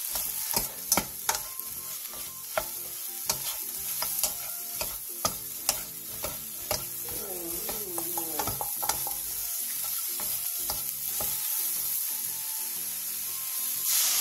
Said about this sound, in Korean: 팬에 들기름 1스푼과 버섯, 다진 마늘 3분의 1스푼을 넣고 버섯의 숨이 반 정도 죽을 때까지 중불에서